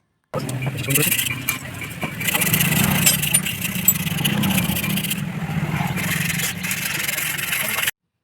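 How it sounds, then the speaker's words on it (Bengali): A motorcycle brake shoe from a Hero Glamour bike being rubbed with sandpaper during servicing, a continuous close scraping with rhythmic strokes, mixed with background noise. "এখন ব্রেক শুটা একটুখানি সিরিজ কাগজ দিয়ে ওয়াশ করে দিচ্ছি"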